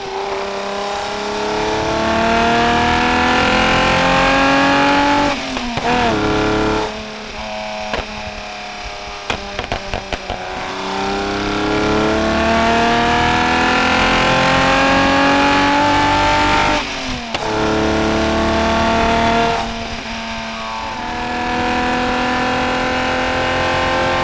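BMW E30 327i fitted with individual throttle bodies, accelerating hard and revving through the gears, with rising engine pitch, brief drops between shifts, and loud, close engine noise throughout.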